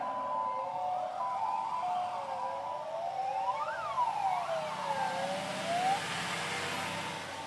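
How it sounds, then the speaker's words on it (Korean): Several emergency vehicles, ambulances, pump trucks, an aerial ladder truck and a police patrol car, arrive at a disaster-drill scene with wailing sirens sweeping up and down, moderately distant over a background hum. "구급차 2대, 펌프차 2대, 굴절 사다리차 1대와 112 순찰차가 현장에 도착을 하고 있습니다."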